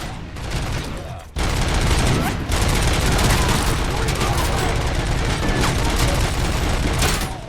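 Sustained gunfire fills a firefight in the video game RoboCop: Rogue City, a dense, loud barrage of overlapping shots and bursts that drops out for a moment near the start and then roars on without letup, with voices under the din.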